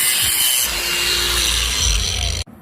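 A loud, continuous grinding cut through metal fuel line tubing for a 1985 BMW E30 325e fuel pump install runs for a couple of seconds, then stops abruptly.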